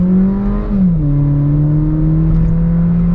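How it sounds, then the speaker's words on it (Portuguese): A VW Polo GTS fitted with a sport air filter pulls away in first gear, its engine drone rising and shifting with a steady turbo whistle layered on top, close and loud with no talking. "dá para ouvir muito mais o assovio da turbina"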